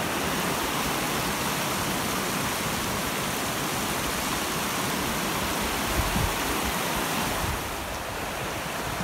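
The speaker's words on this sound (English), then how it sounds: "the water continues to pour out of these mountains" A swollen creek rushing after heavy rains as water pours down out of the mountains: a dense, continuous roar of moving water, close and steady throughout, with no voices.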